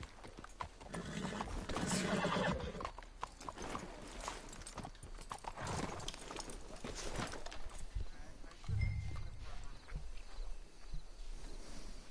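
Video game horse hooves clop steadily on a hard surface, with creaking tack and faint rattling nearby and a brief low snort or whinny partway through.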